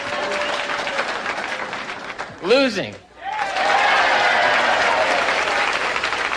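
A comedy club audience bursts into sustained, dense applause, with a voice briefly cutting in over the clapping midway before the crowd noise swells again.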